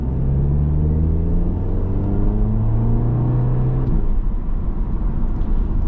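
An old Audi car's engine drones steadily from inside the cabin as it drives off, with rising engine tones climbing while the car accelerates, a loud continuous rumble with no talk.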